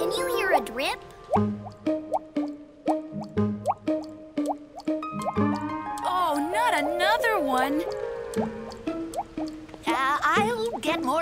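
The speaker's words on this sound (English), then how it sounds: "Can you hear a drip?" Cartoon water drips fall in a regular series of bright, pitched plops, with children and adults talking over them.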